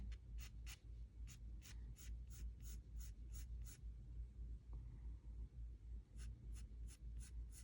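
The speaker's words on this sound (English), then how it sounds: "So I'm just going to sketch those in." Coloured pencil scratching across paper while shading sunflower petals, a steady run of quick, close, rhythmic strokes that pause briefly and then resume, faint and dry.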